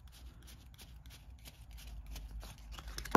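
Cards from the Dead of Winter board game being handled and shuffled nearby, a soft run of papery riffles and flicks ending in a louder snap, with no talking.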